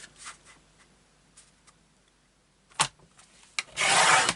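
A paper trimmer slices through A4 card stock, with a couple of quiet scraping strokes followed by a louder, longer rasping cut at the end.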